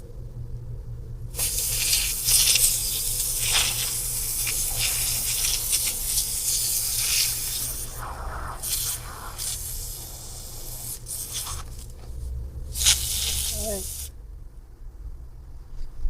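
Insect spray hisses from an aerosol can aimed at a wasp nest at night, long loud bursts close by with short pauses between them, while someone speaks quietly over the spraying.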